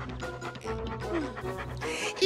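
Cartoon dog panting and whimpering in Strawberry Shortcake, quick rhythmic breathy pants mixed with soft whines, close and steady throughout.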